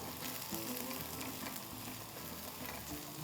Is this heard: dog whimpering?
no